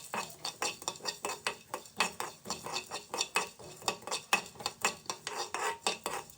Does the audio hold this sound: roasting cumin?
yes